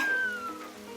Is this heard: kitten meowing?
yes